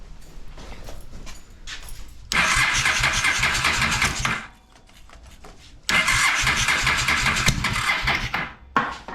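An old engine that sat unused for nearly a decade cranks over with the choke on, two long loud bursts of starter grinding separated by a brief pause, with a short quieter crank at the end.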